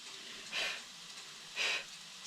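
Hot water from cooked pasta pours off in a pot as steam rises, giving two soft, separate bursts of airy hissing over a quiet background.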